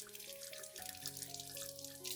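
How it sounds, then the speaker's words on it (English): A gentle stream of water rinses over the stem and base of a ZZ plant, making a brief, soft, steady trickle at low volume. "gently rinse water over the entire stem and base"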